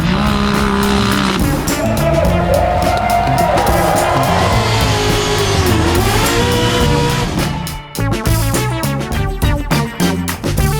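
Loud engine noise from a 50th anniversary Chevrolet C10 truck build by Fix-a-Flat, steady and full throughout, with some tire-squeal-like texture, then choppier revving pulses near the end, no talk over it.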